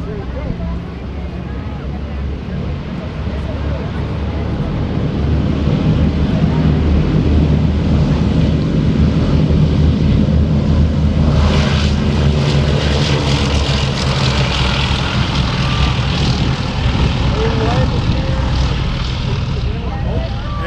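Vintage 1940s-era aircraft engines throttling up at an air terminal, a loud, broad roar that rises and holds steady, building in intensity partway through, with a faint voice in the background.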